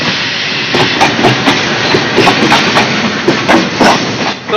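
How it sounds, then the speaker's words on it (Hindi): A train rolls past at a station, loud and close, with a steady roaring rumble and repeated clickety-clack wheel beats over rail joints and no talk. "ट्रेन देखो, ट्रेन देखो।"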